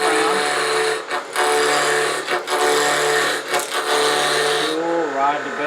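A skew chisel takes a peeling cut on wood spinning fast on a lathe, producing a steady buzzing, rasping whine broken by brief pauses, with someone talking over it.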